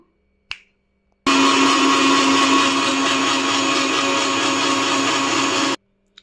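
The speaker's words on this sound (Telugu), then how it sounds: "ఇప్పుడు మూత పెట్టుకొని మిక్సీకి వేసుకుందాము" An electric mixer grinder whirs loud and steady for about four and a half seconds, blending pomegranate juice with milk, sugar and ice, after a single sharp click and then stopping abruptly.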